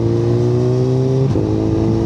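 A Suzuki Hayabusa Gen 3 superbike engine holds a steady, loud, close drone with strong harmonics, then the pitch dips and wavers briefly as the revs drop under engine braking, settling back into a continuous hum.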